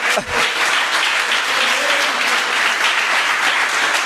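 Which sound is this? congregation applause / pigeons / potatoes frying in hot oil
congregation applause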